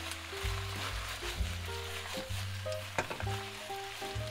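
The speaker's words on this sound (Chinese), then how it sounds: "等油麦菜大多变翠绿色了， 就可以快速翻炒了。" You mai cai lettuce is stir-fried quickly in a hot wok, a continuous close sizzle with repeated scraping tosses of a spatula over a steady low background hum.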